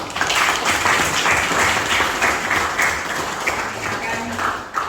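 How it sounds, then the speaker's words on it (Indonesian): A room full of people claps steadily for several seconds, a dense, even applause close by with faint voices mixed in. "tepuk tangan untuk kelompok 1"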